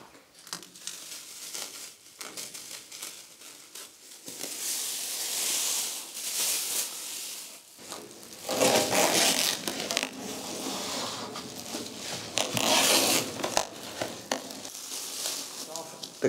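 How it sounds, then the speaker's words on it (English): Plastic masking film with pre-attached tape unfolded over a car body during rust-protection painting prep, with soft crinkling, rustling and crackling sheet sounds in uneven bursts, fairly quiet and close. "It's a piece of plastic which you can fold open, and the sticky tape is already on the top"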